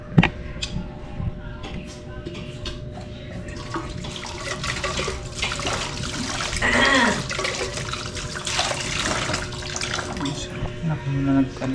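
Water runs and trickles into a container for drinking, a steady splashing flow that swells midway, with a voice speaking over it at times.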